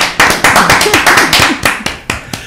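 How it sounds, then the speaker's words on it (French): A crowd claps in lively applause, the sharp hand claps rippling steadily for a couple of seconds before thinning out. "Applaudissements pour Pacam"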